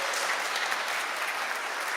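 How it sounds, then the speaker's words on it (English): A church congregation applauds at a Sunday service, a dense and even burst of clapping heard alone. "That's a round of applause."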